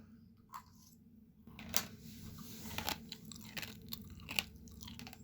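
Quiet, close crunching and chewing of rice cooked without water, irregular crisp bites repeating through a faint background hum.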